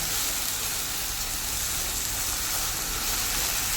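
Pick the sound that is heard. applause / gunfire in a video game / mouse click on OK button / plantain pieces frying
plantain pieces frying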